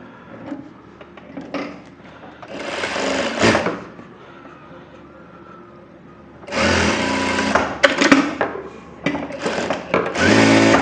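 A tailor's sewing machine stitching a buff sleeve runs in two loud bursts separated by quieter handling sounds, the second stretch longer with brief pauses between runs of stitching, close by and with no talk.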